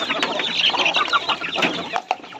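Week-old native chicks chirp and cluck in a busy, overlapping chorus of short peeps, close and moderately loud, with no voices.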